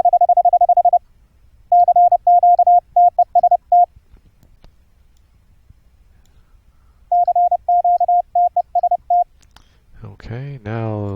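Morse code tone from a radio receiver, run through software filtering for an internet QSO setup: steady keyed beeps in two bursts of dots and dashes with a long silent gap, then a brief voice at the end.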